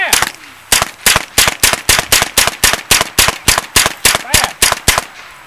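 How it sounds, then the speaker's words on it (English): Rapid semi-automatic gunfire from a GSG5 rifle at an outdoor shooting range, about sixteen sharp, loud, evenly spaced shots fired in quick succession after a short pause at the start. "All right, Mindy, shoot."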